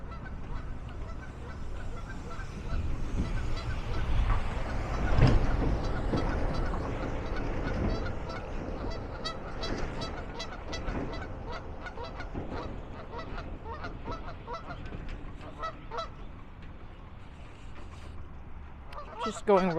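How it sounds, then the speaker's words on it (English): Geese honking at a park pond, several calls scattered over a steady outdoor background, with one louder burst of honks in the middle and some faint talk mixed in. "geese do like to come up pretty quickly and cross this area"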